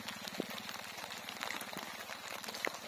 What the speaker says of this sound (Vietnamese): một ngày mưa gió bão bùng